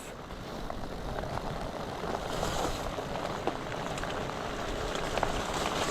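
Rain falling during a fat bike ride in Hagador Canyon, a steady hiss of scattered drops over a low rumble of motion, with no talking.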